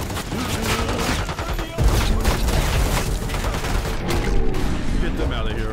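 Dense gunfire in Call of Duty Black Ops 6, loud sustained automatic bursts and heavy booms layered over the combat din, with shouting voices mixed under the shooting.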